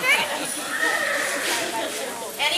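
A horse whinnies at a farm horse auction, with wavering, drawn-out neighs over a noisy background of crowd and voices.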